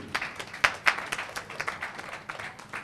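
Scattered applause at a summer camp closing ceremony, a modest crowd clapping in uneven bursts with a few sharp individual claps standing out, moderately close.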